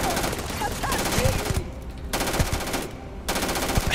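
Rapid automatic gunfire bursts loudly in the space game Starfield, dense rattling volleys broken by brief pauses, with game voices faintly mixed in.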